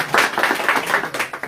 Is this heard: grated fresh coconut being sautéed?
no